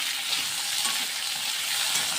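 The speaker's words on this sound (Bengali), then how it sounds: "আলুগুলো খুব ভালো করে ভাজা ভাজা করতে হবে" Long-cut potato pieces frying in hot oil: steady, loud bright sizzle throughout with no voices.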